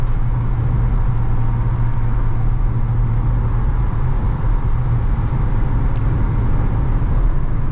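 Steady road and engine rumble from inside a car driving along a road while other traffic passes, a loud continuous low drone with tire noise and no speech.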